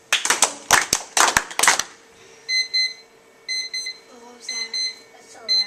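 Rhythmic group clapping in an elementary school classroom at first, then a digital timer beeping in short repeated bursts of high electronic tones.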